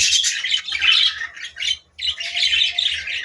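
Budgerigar parakeets squawking and chattering close by in harsh, rapid bursts, with a brief pause before another run of loud calls.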